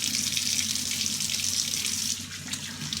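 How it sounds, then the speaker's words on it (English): Hot water runs steadily from a tap into a shaving scuttle, a close, bright, continuous splashing stream that eases slightly near the end, with no voices. "I fill that with really hot water."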